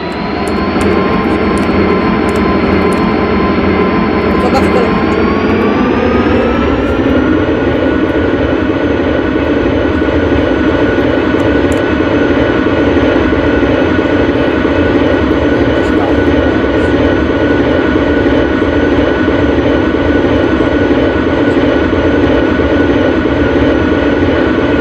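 Airplane engines in a flight simulator game spool up from a steady roar to a louder, higher whine during takeoff, a loud continuous sound from start to finish with no talking.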